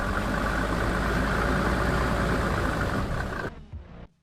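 A 6x6 G-Wagon built from a 1995 G300, interaxle lock engaged, its engine roaring steadily under load while stuck, then cutting off abruptly into near silence with a small clunk.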